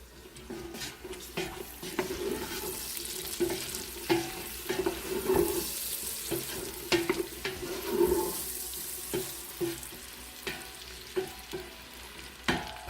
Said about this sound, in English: I'm going to throw in 3 small onions and get these softened while the bacon is still crisping